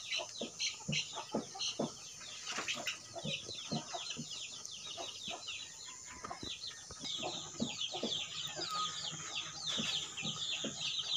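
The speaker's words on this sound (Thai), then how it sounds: "ไก่ดำแท้ๆนี่นี่" Black-meat chickens on a farm clucking and chattering in a flock, many overlapping soft clucks and squawks at a moderate distance, fairly quiet.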